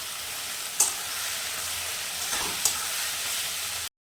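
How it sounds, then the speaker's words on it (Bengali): Onions and tomatoes frying in oil with whole cumin and two bay leaves, a steady close sizzle with a couple of brief stirring clinks, ending in a short cut to silence. "পেঁয়াজ আর টমেটোটা পুরো ভাজা হয়ে গিয়েছে"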